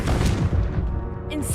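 Confringo fire-blast spell erupting in Hogwarts Legacy, a booming explosive burst with a rumbling tail, loud and close, with a voice over it.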